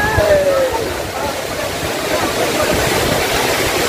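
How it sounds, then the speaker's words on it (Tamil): The Aagaya Gangai waterfall in the Kolli Hills of Namakkal, Tamil Nadu, pours with a constant, dense roar of rushing water. The noise is close and loud and holds steady throughout. "தமிழ்நாட்டில் நீங்க இந்த மாதிரி ஒரு அருவியை பார்க்கவே முடியாது"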